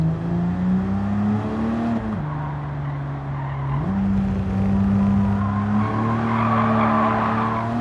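A Porsche 911 Carrera RS (964) engine in Gran Turismo 7 drones steadily and loudly at high revs, its pitch stepping up and down with gear shifts, with faint tire noise underneath.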